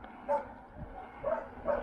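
Several dogs, apparently at a shelter, let out three short, faint barks and yips spread across a couple of seconds, heard at a distance over a low steady background hum.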